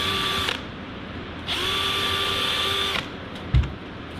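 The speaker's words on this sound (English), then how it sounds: "take the dimpler here, and we're going to dimple this" Pneumatic dimpler on an L750 Cricket aircraft dorsal fin part, two sustained high whining bursts of about half a second and one and a half seconds, close and steady, with a short thump after.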